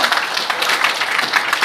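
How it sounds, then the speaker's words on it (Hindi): An audience gives a short burst of dense, steady applause for guests at a DXN gathering, a continuous wash of many hands clapping at once with no voices rising above it. "उनके लिए एक बार जोरदार ताली हो जाए।"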